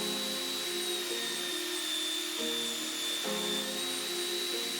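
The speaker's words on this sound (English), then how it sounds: "so I'm going to center it up on my belt sander." Steady grinding whine of a belt sander working a Damascus knife blade with a 1084 steel core, continuous and close, with brief dips in pitch as pressure shifts and no voices.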